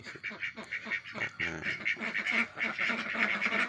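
Laying ducks of the Bang Pakong breed on a farm quack steadily, a dense flock chorus of overlapping nasal calls, close and continuous throughout.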